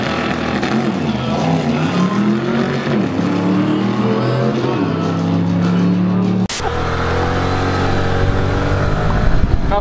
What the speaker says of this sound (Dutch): Can I fire up the engine?